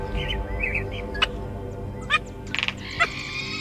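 Short chirps and clicking calls from a roadrunner in a wild Old West desert setting, several brief bursts spread over a few seconds against a low background rumble.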